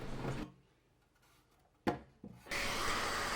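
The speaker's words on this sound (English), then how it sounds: "To get rid of the pencil marks and extra glue on the surfaces, I am sanding them quickly" Bursts of rough, broadband abrasive rubbing of sandpaper on glued wooden cabinet parts start and stop, with a sharp knock in the quiet gap between them.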